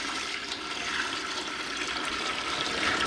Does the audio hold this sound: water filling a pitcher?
yes